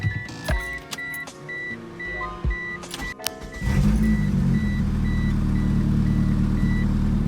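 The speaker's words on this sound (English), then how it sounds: "It's running really rough, and I had a code for a misfire on cylinder 2" A DSM car engine, just warmed up, idles rough with a cylinder 2 misfire. Clicks and a repeating electronic chime come first, then a loud, steady, low rumble runs through to the end.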